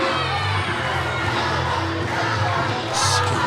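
Crowd at a New Heights Wrestling event cheering and shouting as a wrestler struts to the ring, with children's yells mixed into a steady, loud wash of noise that swells near the end.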